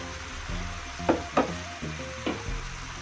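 Spices and leaves (pandan, lemongrass, cardamom, onion, bay leaf, cinnamon, turmeric and curry leaves) fry in a pan for Acehnese red meat curry, with a steady low sizzle broken by several sharp scraping stirs of the utensil.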